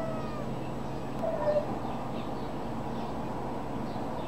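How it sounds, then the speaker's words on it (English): A black cat meows outdoors in the morning, one short faint call partway through over steady ambient background noise, with no talking. "It's a random black cat."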